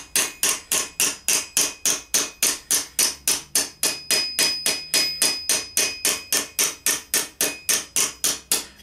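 Rapid, evenly spaced metallic hammer blows ring out one after another, loud and close, around thirty strikes in steady rhythm, as a hammer creases metal armour on a stake.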